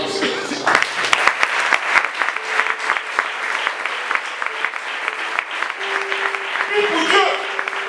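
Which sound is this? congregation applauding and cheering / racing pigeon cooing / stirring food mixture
congregation applauding and cheering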